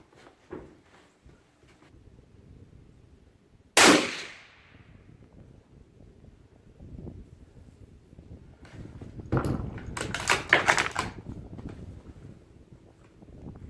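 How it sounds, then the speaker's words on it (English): A 6.5 Creedmoor heavy rifle fitted with a Dead Air Sandman suppressor fires a single sharp, muffled report near the start, followed later by a brief burst of clattering noise against a quiet outdoor background. "now we're going to shoot with the suppressor on"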